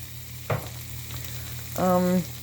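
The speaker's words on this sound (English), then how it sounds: "now is when I'm going to add in the Thai coconut milk" Meat and onions frying in a pan as Thai coconut milk is added, giving a steady close sizzle with a short tonal squeal near the end.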